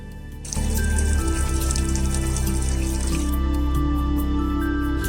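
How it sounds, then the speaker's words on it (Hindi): Rain falls steadily in the Kullu mountains of Himachal Pradesh, starting abruptly after a brief quiet moment and then hissing loudly and continuously, with scattered patter on nearby surfaces. "यहाँ पल में बारिश बरस रही है"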